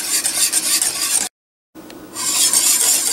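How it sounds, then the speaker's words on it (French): A spoon stirring a beet and cheese cream mixture in a pot on the stove, with steady scraping and swishing strokes, a brief pause, then louder continuous rubbing close by. "Je vais bien mélanger le tout jusqu'à ce que ça soit homogène."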